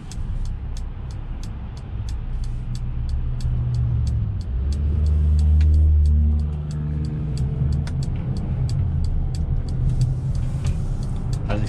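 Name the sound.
2021 Mercedes GLA SUV engine during test drive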